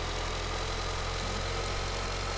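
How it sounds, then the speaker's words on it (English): A simulated tank engine runs at a steady idle, a continuous low mechanical hum with constant vibration and no change in pitch or level. "The engine of the other tank just started."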